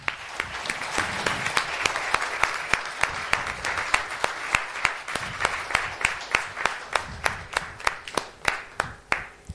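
An audience at a children's reading competition final applauds a young reader, dense clapping settling into a rhythmic unison beat, steady and moderately close across the room.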